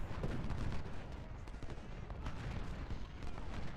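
Gunfire in a Battle of Antietam video game, a dense, continuous crackle of musket volleys and booming reports packed together at moderate loudness with no pauses.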